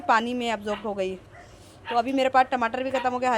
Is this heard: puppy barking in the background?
yes